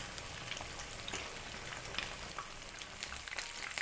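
Chicken pieces for ayam goreng ungkep sizzle and crackle in hot oil, a faint, continuous frying with small scattered pops and no voices.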